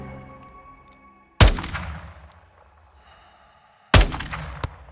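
Gunfire in Call of Duty: Modern Warfare 2 (2022), two sharp, loud single shots about two and a half seconds apart, each decaying into a ringing tail, with no speech.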